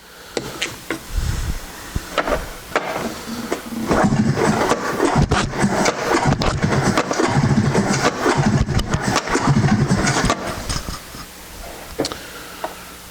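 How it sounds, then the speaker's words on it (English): A snowmobile engine is pull-cranked repeatedly in rough, loud bursts during a compression test, sputtering and turning over without settling into a steady run. "You're going to turn this engine over until the needle stops moving."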